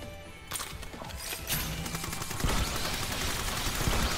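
Video game gunfire in SAO Fatal Bullet during a boss fight, rapid overlapping shots and impacts building into a dense, sustained barrage with no talking.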